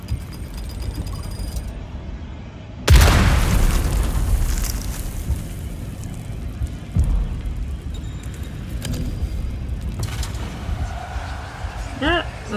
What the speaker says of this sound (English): I think there's another bomb like right there.